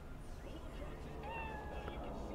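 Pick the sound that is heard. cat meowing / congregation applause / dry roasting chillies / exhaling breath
cat meowing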